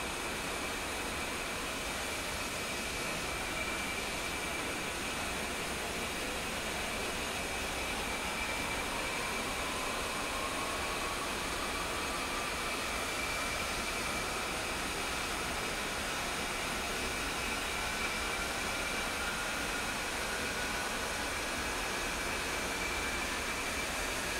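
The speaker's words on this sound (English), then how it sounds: "Go ahead and start the right engine the same way." Right engine of a jet aircraft starting in the DCS World flight simulator, a continuous broadband roar with a faint whine slowly rising in pitch, steady and moderately loud throughout, with no talking.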